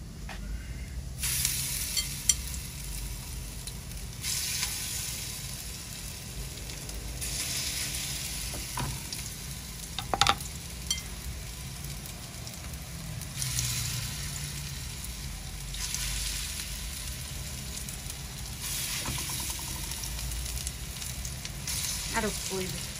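Pumpkin-flower fritters sizzle and fry steadily in a hot pan, a constant close hiss with waves of louder crackling and occasional clinks of stirring.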